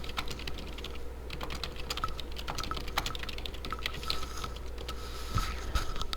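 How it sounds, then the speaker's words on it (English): Typing a question on a computer keyboard, a steady run of close, quick key clicks with no talking. "all we have to do is type that in"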